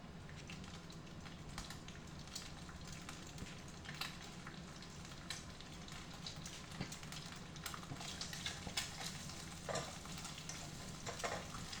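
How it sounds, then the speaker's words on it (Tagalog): An egg frying in a pan for fried rice gives a soft, continuous crackling sizzle at low level, with scattered small pops throughout. "Luto pala ng egg muna."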